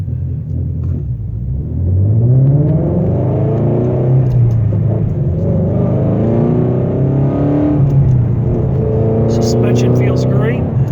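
A 2016 Ford Shelby GT350 rumbles steadily on the road during an inspection drive, its engine note rising and falling with gear changes while someone talks over it.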